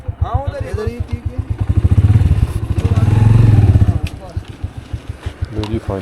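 A motorcycle engine idles and revs up and down near a repair shop on a solo bike tour in northern Pakistan's Hunza Valley, close and loud, with clattering thumps and voices over it.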